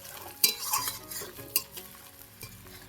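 A spatula stirs reddening onions frying in a pan on a stove, scraping and clinking in uneven strokes over a soft steady sizzle, close and moderately loud.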